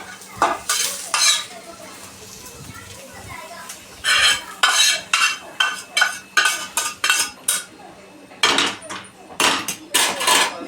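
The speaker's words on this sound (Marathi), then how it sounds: "आता आपण कांदा काढून घेऊया" A metal spoon scrapes and clanks against a pan while roasted onion is scooped out of it, giving repeated loud rattling strokes in bursts with brief pauses and a faint sizzle underneath.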